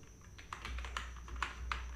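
Computer keyboard typing as HTML code is entered, a run of quiet, uneven key taps over a low steady hum, with no voices.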